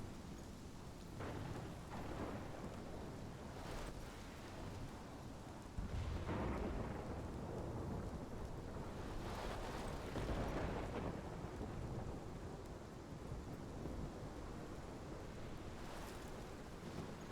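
A thunderstorm rages in the video game Life is Strange, with steady wind and rain under repeated deep rolling thunder crashes, one booming strike hitting hard partway through and others rumbling farther off; no voices.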